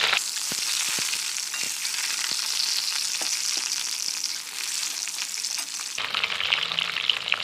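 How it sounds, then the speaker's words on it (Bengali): Halved boiled eggs fry in mustard oil in a wok, a loud, steady crackling sizzle with occasional sharper spatters, carrying on without any voice. "এবার ডিমগুলো ভেজে নেব।"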